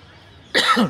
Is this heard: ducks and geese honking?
no